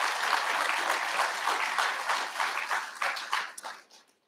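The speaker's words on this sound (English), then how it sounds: "One more round of applause for him." Applause from the audience at a physical therapist assistant pinning ceremony, a dense, lively burst of clapping that starts strong and then thins out and fades to near silence by the end.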